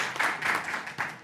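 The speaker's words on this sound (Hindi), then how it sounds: "एक बार योगेश जी के लिए जोर से तालियां बजा के साधुवाद दे दीजिए" Hands clapping together across an audience at a Hindu devotional gathering with a bhandara feast, a dense steady patter over a little more than a second that surges again near the end.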